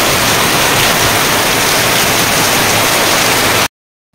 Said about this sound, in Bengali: দেখো গাইস, মুষলধারে বৃষ্টি।